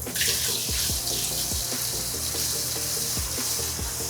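Water pours steadily out of a cold brew vat being emptied during cleaning, a continuous close splashing rush with a few dull knocks underneath.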